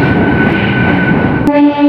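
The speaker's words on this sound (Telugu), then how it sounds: "ఇప్పుడే స్పీడ్ అనుకుంటుంది ట్రైన్." A passenger train pulls away from Nizamabad station and gathers speed, its loud, steady rumble and wheel noise rolling on continuously, then shifting pitch near the end as tonal hums rise.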